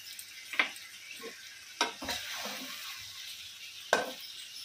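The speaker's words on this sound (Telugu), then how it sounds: "ఇలా మధ్య మధ్యలో కలుపుతూ ఇలా వేయించుకోవాలండి" Fish roe frying in a pan with curry leaves gives a soft, quiet sizzle, broken by three sharp spatula scrapes as it is gently stirred now and then.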